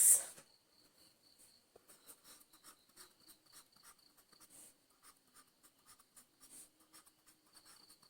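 A pen writes a sample space for a probability problem by hand, giving faint, close scratchy strokes in short irregular bursts over near silence.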